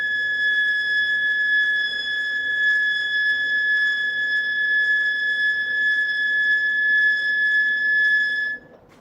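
A machine being used for metal machining gives off a steady, piercing high-pitched squeal blamed on tension on the brake, holding unbroken for about eight seconds over low mechanical hum before cutting off abruptly.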